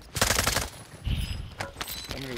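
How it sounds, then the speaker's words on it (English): Automatic gunfire in Call of Duty: Modern Warfare II, with a loud burst of rapid shots followed by more scattered game sounds and effects. "Somebody was shooting at me."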